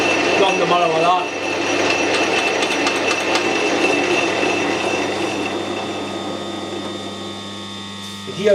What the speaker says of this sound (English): The gears are noisy. They're always noisy, they're straight cut gears.